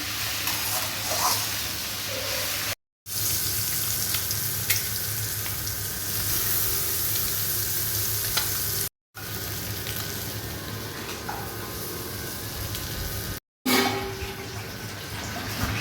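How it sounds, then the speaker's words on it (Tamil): Okra sautéing in a pan, a continuous close sizzling hiss with faint stirring scrapes, fairly quiet, briefly cut by three short gaps of silence. "வெண்டைக்காவும் சேர்ந்து வதங்கட்டும் நல்லா."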